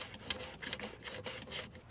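A lower radiator hose being worked onto a coolant pipe on a 2013-2021 Chevy Trax, producing close rubbing and scraping of rubber on metal in several short, uneven pushes.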